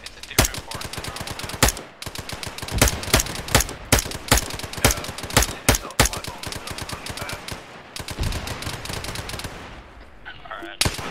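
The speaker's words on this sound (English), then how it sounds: "the MG suppressing fully" Sustained machine gun suppressing fire in the military shooter Arma 3, with loud, rapid bursts of shots that keep repeating in uneven clusters across the whole stretch and end in a short pause near the close.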